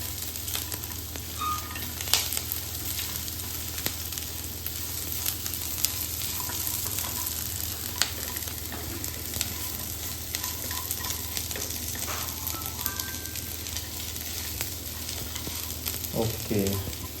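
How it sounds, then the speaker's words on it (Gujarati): Sesame seeds and ivy gourd chutney ingredients fry in a pan with a steady close sizzle. Occasional scrapes and stirring clatter sound over the hiss, with no talking. "તલને પણ આપણે સાતરી લઈશું બધી સામગ્રી જોડે."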